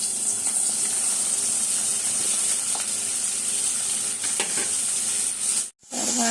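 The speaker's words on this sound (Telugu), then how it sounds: "కట్ చేసిన దొండకాయలు వేసుకోవాలి." Chopped ivy gourd, onion and green chilli fry in a hot pan for a garlic-chilli dish, giving a loud, steady sizzle that drops out for a brief moment near the end.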